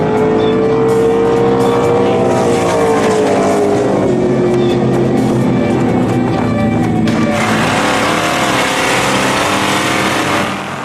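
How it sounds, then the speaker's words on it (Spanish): Race car engines drone loudly and without a break on the Gimli airstrip, which has been turned into a car racing circuit on a Saturday race day. The engine pitch glides down and then climbs again as cars accelerate past. "La pista de Gimli se ha transformado en un circuito de carreras de coches."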